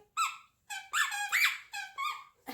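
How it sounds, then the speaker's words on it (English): Squeaky dog toy squeezed in a run of sharp, bright, pitched squeaks, about five in quick succession with short gaps between, loud and close, indoors with no talking. "Sorry about the squeaking."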